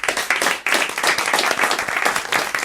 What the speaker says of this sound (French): Merci, on vous embrasse, on vous applaudit.